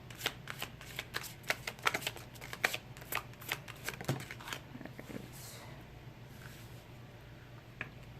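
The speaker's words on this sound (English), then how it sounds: "I've shuffled these cards so many times" Close, quiet flicking of tarot cards being shuffled in quick repeated bursts, then the handling slows to a few soft taps.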